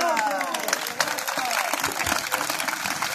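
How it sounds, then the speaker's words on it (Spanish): An audience applauds a mariachi performance, a dense wash of clapping that continues throughout while a presenter talks over it. "Todos los aplausos"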